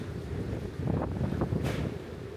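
Strong wind buffets the microphone on the open deck of the Sky Princess cruise ship at sea, a steady loud roar with gusts swelling midway and no voices.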